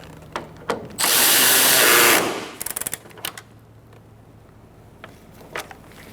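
A power tool tightens a bolt while a cooling fan assembly is installed in a 2014-2019 Kia Soul 1.6L: a loud, steady whir of about a second, then a quick burst of ratcheting clicks, followed by scattered faint taps.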